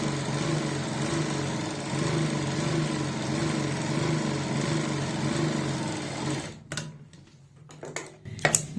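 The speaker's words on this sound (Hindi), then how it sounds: "अब हम नीचे की साइड एक किनारी की सिलाई लगा लेते हैं।" A sewing machine runs steadily, stitching the edge hem of a salwar, a continuous close whirring drone that stops around six and a half seconds, followed by a few short clicks and handling knocks.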